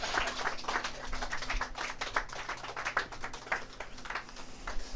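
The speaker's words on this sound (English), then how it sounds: "can we get another round of applause for the basking shark?" Steady applause from a small audience at a shark-themed talent show, a continuous patter of many hands clapping at moderate level without any cheering.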